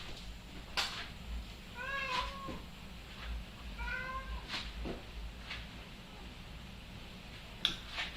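A cat meows indoors in two distinct rising-falling calls a couple of seconds apart, fairly faint and close, over a low room hum with a few small knocks.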